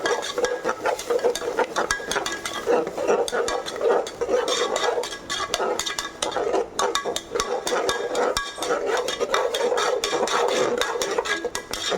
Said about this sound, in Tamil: நல்லா தக்காளியும் நல்லா வதக்கணும்